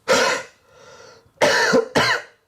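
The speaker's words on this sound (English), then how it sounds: "try and cough up the mucus" Three harsh, forceful coughs bringing up mucus, close up, separated by a wheezy breath, each loud and abrupt with a short pause between.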